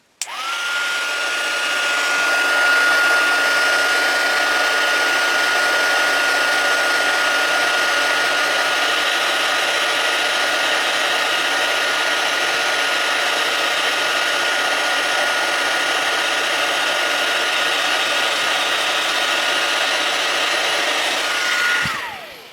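A heat embossing tool blows a steady, loud, even whoosh for about twenty seconds while it heats cardstock from underneath, with no talking over it.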